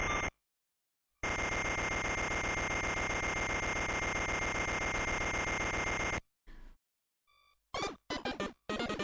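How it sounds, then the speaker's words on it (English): Loud, harsh electronic alarm clock buzzing from the Wario Land 2 video game, a dense sustained buzz lasting about five seconds after a short gap, followed by brief chiptune blips. "turn off the alarm clock"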